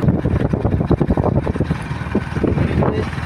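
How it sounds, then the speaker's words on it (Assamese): Wind buffets the microphone during a motorbike ride, with engine rumble and gusty, fluctuating roaring noise close and loud throughout. "বাহিৰৰ মাতষাৰটো অলপ বেছিকৈ আহিব, কেনেকৈ বাইকত গৈ আছোঁ সেইটো কাৰণে মাতষাৰটো অলপ বেছিকৈ আহিব।"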